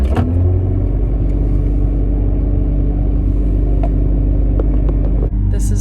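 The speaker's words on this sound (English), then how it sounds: "figured I would just record the cold start because it sounds so good." Mazda RX-7 FC rotary engine on a cold start in a chilly garage, a loud, steady high idle with a constant low rumble and hum running throughout, with a few faint clicks near the end.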